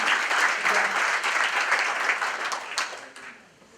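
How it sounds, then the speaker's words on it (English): Audience applause for award winners at a children's champions ceremony, dense sustained clapping that fades near the end. "let's give them one more round of applause"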